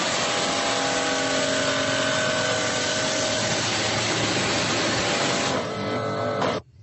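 A pressure washer runs in a steady, loud mechanical drone with a constant whine for several seconds, then cuts off near the end.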